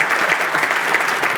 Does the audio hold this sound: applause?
yes